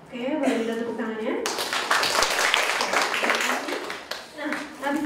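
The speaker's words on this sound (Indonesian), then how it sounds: "Oke, boleh kita tepuk tangannya." Audience applause at an Indonesian business seminar hall, a dense wash of clapping from a crowd that swells after a short spoken prompt and carries on for several seconds with voices mixed in.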